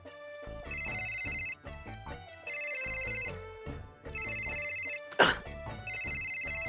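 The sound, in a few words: mobile phone ringtone ringing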